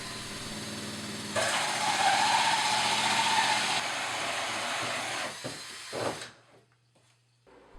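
A power drill bores holes through the side of a seamless plastic aquarium sump tub; a steady loud whine runs for several seconds, then stops with a few short bursts and clunks.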